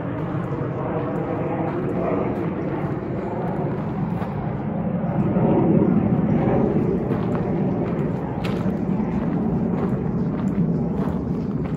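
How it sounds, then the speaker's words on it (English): Planes from nearby Charleston airport pass over Magnolia Plantation and Gardens, heard as a low, rolling engine rumble that swells in the middle and then eases, continuous and fairly distant, with faint scattered outdoor sounds on top. "There's a lot of planes going right now."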